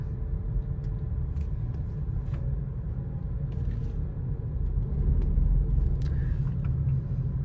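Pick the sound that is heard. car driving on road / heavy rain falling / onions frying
car driving on road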